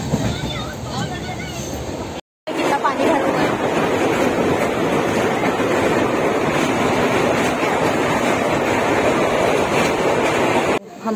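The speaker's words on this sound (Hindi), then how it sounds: "आप लोग देख सकते हो बाहर बहुत पानी गिर रहा है" Heavy rain pours outside a moving passenger train on the way to Bilaspur, a loud, steady broadband rush with a brief cut near the start that runs unbroken to the end.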